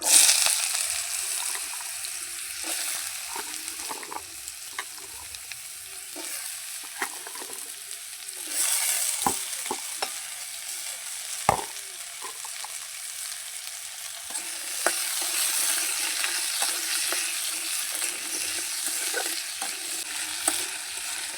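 Continuous oily sizzling of potatoes frying with dried red chillies in a pan, broken by scraping stirs and occasional sharp clacks of a utensil, close and steady throughout.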